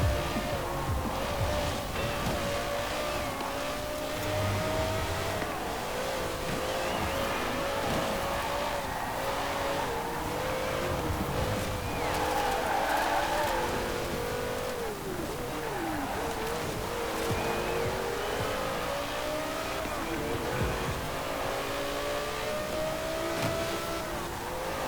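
Supercar engine in Forza Horizon 4 revving past 8,000 RPM, a loud, continuous high-pitched wail with rising and falling pitch through gear changes, sustained throughout without pauses.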